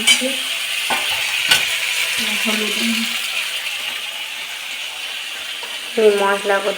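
Ground chili paste and spices sizzle in hot oil, a steady close frying hiss with stirring clatter and a few sharp utensil knocks, under brief soft speech.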